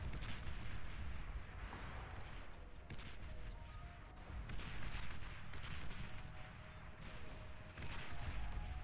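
Long-range rocket fire in the strategy game Beyond All Reason, a dense, continuous barrage of muffled distant booms and launches layered over one another, fairly quiet and steady throughout.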